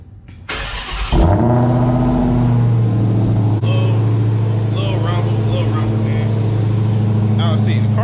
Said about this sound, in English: let me go ahead and get y'all this like cold start